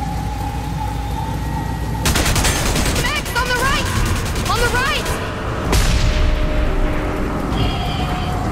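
Gunfire and battle noise in Enslaved: Odyssey to the West, with sharp booming impacts and crackling bursts over a steady rumbling backdrop, mixed with shouted voices.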